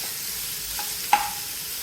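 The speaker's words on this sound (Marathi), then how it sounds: "त्याचा कलर हा थोडासा गोल्डन ब्राऊन होईपर्यंत आपल्याला कांदा तेलामध्ये" Chopped onion fries in oil until golden brown for tandulsa bhaji, giving a soft, even sizzling hiss. A single sharp clack of a spoon or spatula against the pan sounds partway through.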